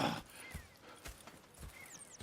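Horse hooves clip-clop in Red Dead Redemption 2, a slow, evenly spaced walking beat of soft, close hoof strikes, fairly quiet and with no talk over them.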